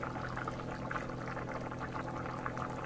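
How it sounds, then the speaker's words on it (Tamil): Water boiling steadily in a pot while egg biryani cooks, a continuous bubbling, churning wash with no voices, close and fairly loud throughout. "ஸோ இப்போ நல்லா கொதிச்சிட்ருக்கு."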